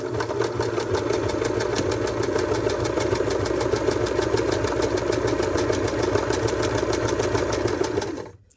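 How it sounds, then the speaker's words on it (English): A sewing machine stitches a tiny zigzag for a four-step buttonhole, its needle chattering in a steady fast rhythm close by for about eight seconds before stopping abruptly. "Now it's doing a little tiny zigzag"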